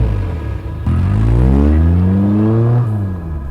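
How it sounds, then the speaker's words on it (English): A car engine revs up sharply and pulls away close by in a parking garage, rising pitch sweeping upward as it accelerates, loud and alone without talk. "behind me I heard a car start and peel away"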